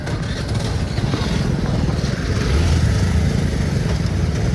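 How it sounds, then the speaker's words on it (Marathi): A motorcycle engine runs steadily nearby, a dense, rough drone that holds level and swells slightly louder partway through, with no voices over it. "झाली चालू आमची गाडी, झाली चालू"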